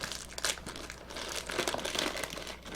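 A plastic Ziploc bag holding Star Wars Legion miniatures is opened with close, continuous crinkling and rustling, with several sharper crackles along the way.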